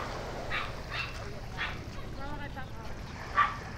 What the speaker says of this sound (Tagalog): Ayan si Pichi, ang alaga naming aso